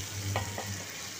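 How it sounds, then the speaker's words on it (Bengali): Raw shrimp frying with onions in a pan, a brief, fairly soft sizzle with a couple of faint stirring scrapes. "দিয়ে কাঁচা চিংড়ি মাছটা দিয়ে দিলাম, দিয়ে পেঁয়াজের সঙ্গে কিছুক্ষণ লাল করে ভেজে নেব"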